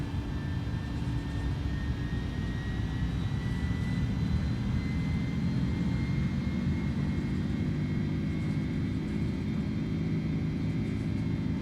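Airbus A310 jet engines spool up in a flight simulator game, a loud steady roar with a rising whine held evenly throughout and no voices over it.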